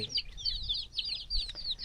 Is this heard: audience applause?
no